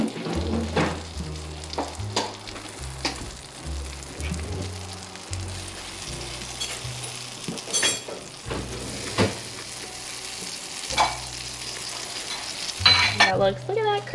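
Spinach dip topping on a Christmas-tree-shaped pizza sizzles steadily up close, a soft continuous frying hiss with occasional light clinks and scrapes, and a faint voice at times.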